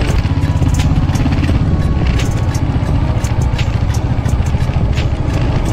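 A motorcycle rides through narrow streets in Goa, its engine a steady, loud rumble with continuous clatter and road noise throughout, close by and with no talking over it.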